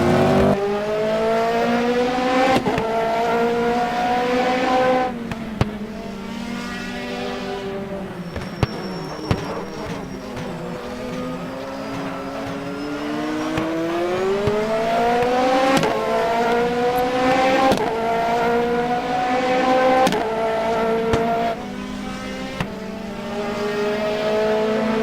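GT2 race cars racing at Suzuka in the rFactor sim game, a continuous loud engine whine rising and falling through gear shifts and acceleration, with brief sharp clicks and downshift dips, heard from the driver's car without talk.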